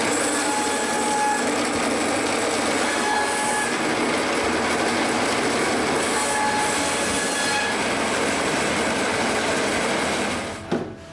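A saw cutting fresh ends on birch boards before stacking them to dry, a loud continuous whining roar holding steady throughout and dropping away abruptly at the end.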